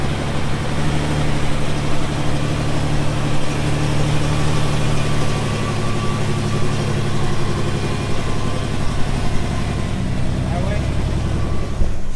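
A rock crawler car drives up with a steady low engine rumble and idle, loud and close throughout, with people talking over it.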